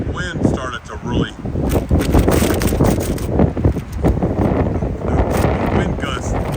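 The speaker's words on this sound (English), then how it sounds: "the wind gusts really started to hit" Strong wind gusts buffet an outdoor microphone, producing loud, continuous rumbling roar with surging bursts throughout, no clear talk over it.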